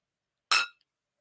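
A single bright clink of drinking glasses touched together for a toast, short and crisp with a brief ringing tail, heard alone against silence.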